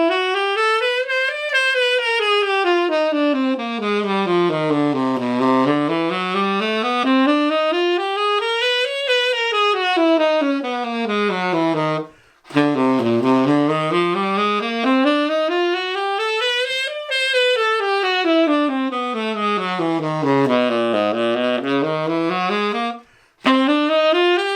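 Continuous scalar runs climbing and descending in steady waves over the chord changes, the chord scales shifting mid-run, a bright sustained melodic instrument playing alone with two brief breaks.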